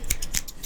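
Barbershop scissors snip crisply in three quick, close metallic cuts, evenly spaced and sharp, with nothing else over them.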